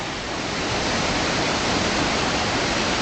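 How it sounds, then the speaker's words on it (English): Big Cottonwood Creek runs high in early July, a mountain stream's steady broadband rush close by on a hiking trail, loud and unbroken with no voices. "Big Cottonwood Creek is running really high."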